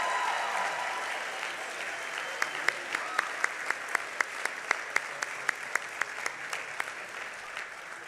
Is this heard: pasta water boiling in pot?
no